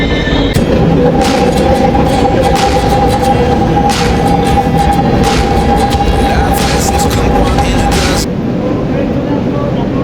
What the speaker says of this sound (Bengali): নলসে থেকে ট্রেন চলে আসলো আমি এখন ট্রেনে উঠবো